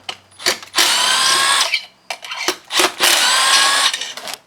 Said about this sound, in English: it requires a T27 Torx screwdriver. I'm going to use my impact today. It's going to be nice and quick.